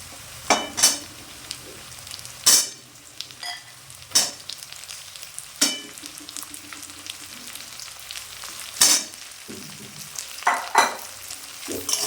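Diced potatoes and chopped onion fry in a pan for a Bengali parshe fish curry with brinjal, a steady sizzle broken by repeated sharp scrapes and clacks of a spatula stirring, close and with no talk.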